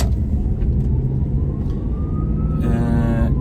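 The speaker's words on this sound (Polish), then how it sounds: "i ale jakieś karetki jeżdżą, kurczę" Ambulance siren passing at a distance, its wail rising and sweeping faintly over steady traffic and engine rumble near a street-side vehicle workspace.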